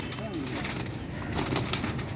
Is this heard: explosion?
no